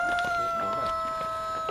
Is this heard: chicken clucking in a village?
yes